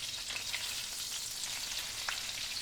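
Pork Milanese cutlet frying in a pan over lowered flame, a steady soft sizzle and crackle that stays faint and even throughout, with no talking.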